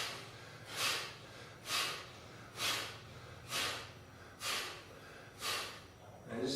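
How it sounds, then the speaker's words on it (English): Six sharp, forceful nasal exhalations of Kapalabhati yoga breathing come at an even pace about one second apart. Each is a close, loud burst of breath with quiet gaps between. "one more set of 5 for Kapalabhati breaths"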